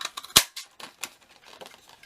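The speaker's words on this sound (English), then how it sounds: "very quickly I want to punch out my two daisies and stick those together" A handheld craft punch cuts paper daisies with one sharp, loud snap, surrounded by softer clicks and rustling paper handling.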